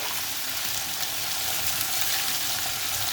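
Wide-sliced onions and green chillies fry gently in oil for chicken dopiaza, giving a steady, even hiss of sizzling that holds constant throughout with no voices.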